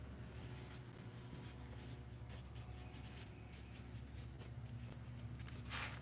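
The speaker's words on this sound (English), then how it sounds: "I'm gonna write it. I'm gonna make myself a note." Pen writing a note by hand during a live fishing stream, a faint continuous scratching of strokes against a steady background hum, with small taps near the end.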